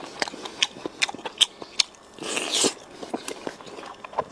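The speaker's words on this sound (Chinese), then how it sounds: "这手把羊排必须用手拿着吃嘛。" Close, crisp bites and chewing on a hand-held lamb chop give a string of sharp crunchy clicks. A brief louder rustle comes midway, and a little faint talk can be heard.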